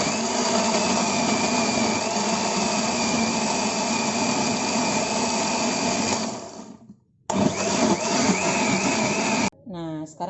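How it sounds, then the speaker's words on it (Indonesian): Electric kitchen blender running loud and steady for about six seconds before winding down and stopping, then a short restart burst and quick clattering, with talk nearby. "Nah, sekarang kita blender ya."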